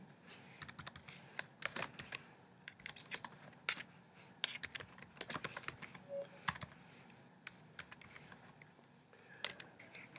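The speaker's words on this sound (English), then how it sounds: "I want to be able to type the full address of the school." Computer keyboard typing while an address is entered into an online school registration form: rapid, irregular keystrokes close to the mic, clustering into quick bursts with short pauses and no speech.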